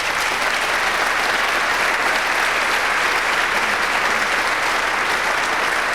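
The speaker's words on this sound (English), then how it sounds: "Give her a round of applause, ladies and gentlemen" An audience at a snooker comedy show gives a volunteer a round of applause, a dense, even wash of clapping that stays loud and steady for several seconds with no talk over it.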